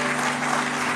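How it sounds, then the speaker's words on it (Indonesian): Applause from a church congregation during a sermon, a dense steady wash of clapping that holds evenly throughout the short moment. "Tepuk tangan ke Tuhan."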